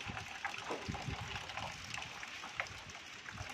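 Water gushes and trickles steadily from a spot where it springs out of the ground, a continuous, faint, close splashing flow with no talk over it.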